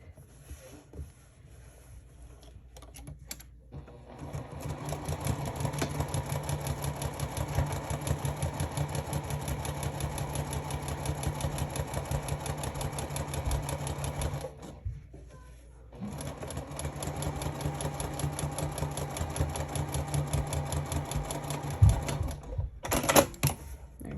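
A sewing machine top stitching fabric runs in steady, fast mechanical bursts, pausing briefly twice before resuming; a quiet clatter close by with no talking over it.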